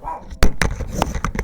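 A small pet dog lets out several sharp, loud barks and yips close by, spaced irregularly over a short burst with no voices.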